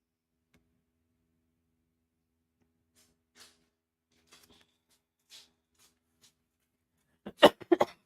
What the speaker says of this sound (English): Sorry, y'all. Got this cough.